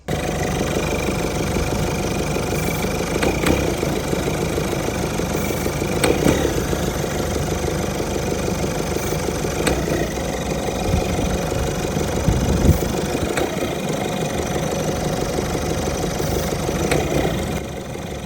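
A Ford Fiesta engine idles steadily during an engine cleaner treatment, a close, continuous mechanical hum with a faint knocking pulse and occasional slight surges, with no talk.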